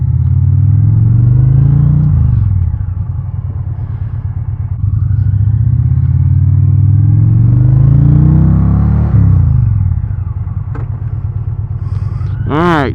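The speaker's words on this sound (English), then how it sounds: "those Reinhardt exhausts that are on here sound pretty good" A 2022 Indian Challenger Dark Horse motorcycle fitted with Reinhardt exhausts rumbles loudly and close as it rides, its deep engine note rising and falling through gear changes, with a sharp short whine near the end.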